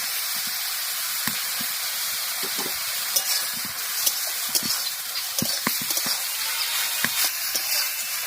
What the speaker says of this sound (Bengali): ঘিয়ের মধ্যে লাউ আমি 3 থেকে 4 মিনিট ভেজে নিয়েছি।